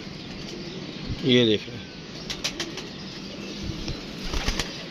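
A large female pigeon bursts into flight with a short, loud flurry of wing flaps close by, followed by faint outdoor ambience as someone talks.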